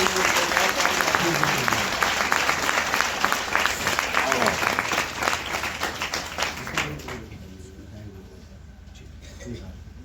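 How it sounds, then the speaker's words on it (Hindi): A seminar audience gives a round of applause for a speaker: loud, dense clapping from many hands that holds steady, then thins and fades out over the last few seconds as a voice begins. "मैं चाहूंगा कि आशीष जी के लिए एक जोरदार ताली होनी चाहिए"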